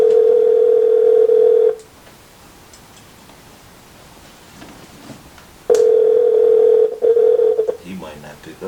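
A steady telephone dial tone sounds loud and close while a call is placed, cuts out for a few seconds of quiet line hiss, then returns and breaks up near the end.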